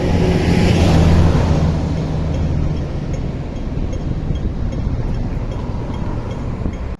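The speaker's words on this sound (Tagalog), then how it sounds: "Kasi traffic pala." Street traffic at a pedestrian crossing in Hong Kong: a loud vehicle rumbles close by at the start with a low engine drone, then eases into a steady wash of passing cars and road noise, with no talk heard.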